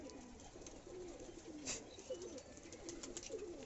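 Pigeons coo softly near a cage in a quiet, low-level setting, with several low throaty calls repeating over faint background noise.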